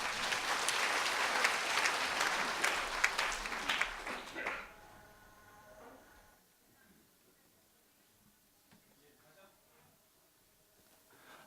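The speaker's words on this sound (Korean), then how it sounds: "박수 부탁드립니다." Staff at a monthly office assembly applaud as an employee is introduced to give a presentation. A loud burst of clapping lasts about four seconds, then dies away into near silence with faint room noise.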